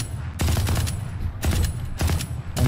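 Ares machine gun firing in Valorant: loud, close rapid-fire bursts, about four sustained volleys separated by brief pauses, with no voices.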